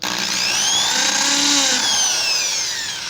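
Power drill boring through a motorcycle engine part, a close, loud, high whine that rises and then falls over about three seconds.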